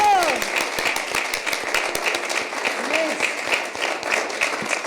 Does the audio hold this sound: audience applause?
yes